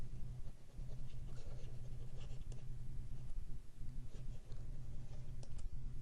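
Chalk or marker scratching and tapping on a lecture-hall board during a calculus class, a steady run of short strokes over a low room hum, fairly close, with no talking.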